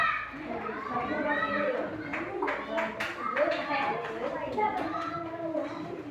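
A group of children clap with scattered, uneven claps mixed with lively chatter and kids' voices.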